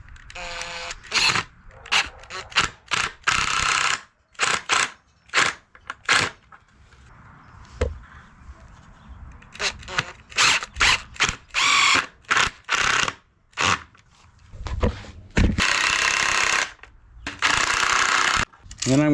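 Pocket hole screws, 2.5 inches long, are driven into wood fence rails while building a gate, giving repeated loud bursts of a power driver whirring and ratcheting, each run seconds long and separated by short pauses.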